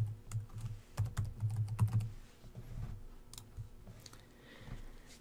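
Soft computer-keyboard typing of a short word into an online course platform, a scattered run of light clicks up close, fairly quiet over a low rumble, with no voices.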